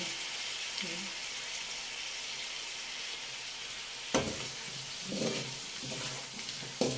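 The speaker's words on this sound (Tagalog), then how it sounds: "Haluin natin ng bahagya lang." Pork menudo with carrots and potatoes stirred in a pan, a steady sizzle of frying underneath with a few scraping, clattering stir strokes toward the end.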